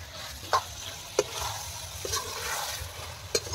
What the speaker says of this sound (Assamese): বাহিৰত মাংস ভাজি আছে